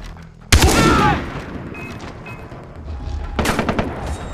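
Gunfire in the video game Far Cry 3: a loud sudden burst of rapid shots at the start, settling into lower rumble, then another volley of repeated shots near the end.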